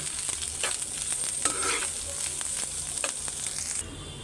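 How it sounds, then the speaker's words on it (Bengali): Fried bitter gourd goes into a pan of lightly browned onions and sizzles loudly and steadily, with scraping stirring strokes over it, until the frying abruptly quiets near the end. "পেঁয়াজটা হালকা লাল করে এই যে করলা ভাজিটা দিয়ে দিতেছি"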